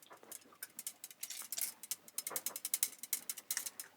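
A flaring tool being tightened onto boat air-conditioning tubing gives rapid ratcheting clicks that speed up toward the end, close and fairly quiet with no talking.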